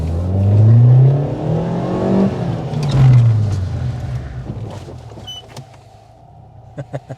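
A car engine rumbles and revs low during stunt driving practice, rising and falling twice, then settles to a quieter idle with a few clicks near the end.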